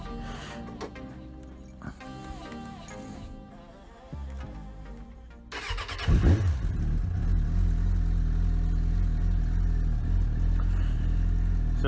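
A cold-blooded 2003 Suzuki GSX600F sport bike is cranked and fires up from cold, settling into a loud, steady, slightly rough idle close by after a brief revving burst.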